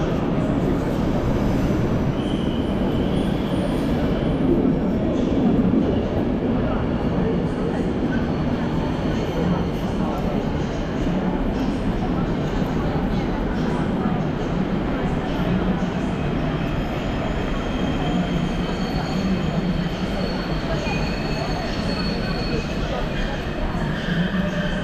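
The PKP EuroNight Chopin sleeper train stands at a Warsaw platform, giving off a loud, steady rumble and rolling railway noise throughout, with voices in the background.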